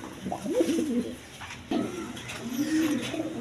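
Lahori pigeons coo in soft, throaty rolling phrases, two or three bursts close by at moderate volume, with faint background rustle and no talking.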